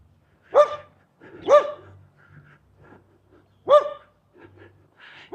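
A dog barks nearby on a hot-day walk at Goondi Hill. Three loud, sharp barks come at uneven intervals, with softer huffs and grunts between them and no talking.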